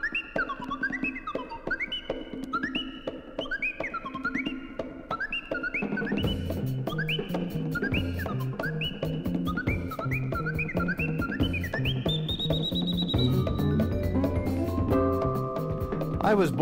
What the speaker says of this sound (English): I'll just keep on whistling.